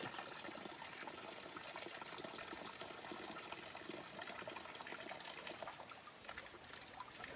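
Steady trickling and splashing of natural spring water flowing over stone, running continuously, close and fairly quiet, with no voices.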